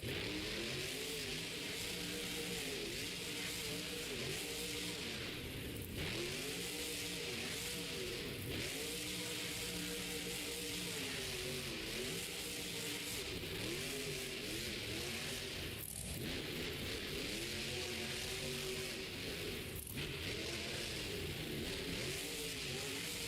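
The El Toro Loco monster truck engine roars and revs through a racing run in a stadium event, heard as a loud, sustained engine drone with repeated rising and falling surges under heavy crowd and arena noise.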